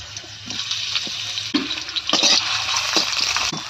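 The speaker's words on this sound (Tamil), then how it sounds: "கடாய் காய வச்சதுக்கப்புறம் எண்ணெய் சேர்த்துருக்கேன் நான் கட் பண்ணி வச்சுருக்க வெங்காயம் சேர்த்துக்கிறேன்" Chopped onions hit hot oil in a kadai for an Odisha-style egg paneer curry, giving a steady close hiss and sizzle broken by a few scraping stirs.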